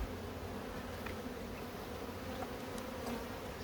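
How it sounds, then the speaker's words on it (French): Honey bees buzz steadily inside a small, young colony in a hive fitted with nearly new frames, a dense continuous drone with a few louder individual bees passing close. "mais il y a quand même pas mal d'abeilles"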